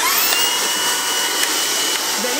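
A folding vacuum cleaner, bent at the joint between handle and base to reach under furniture, runs continuously nearby with a steady, even high-pitched whine and no talk over it.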